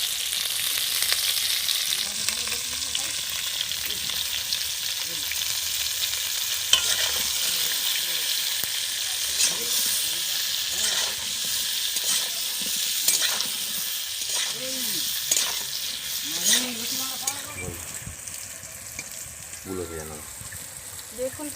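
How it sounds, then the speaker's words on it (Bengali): Pointed gourd (potol) pieces frying in hot oil with salt and turmeric, a steady close sizzle with occasional stirring and scraping clatter throughout, a voice briefly speaking over it. "দেখুন পটলটা কিন্তু আমি লাল লাল করে ভেজে নিয়েছি।"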